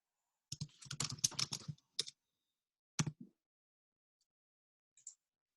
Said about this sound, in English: type word Houston.